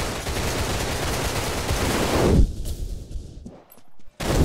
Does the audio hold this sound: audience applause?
no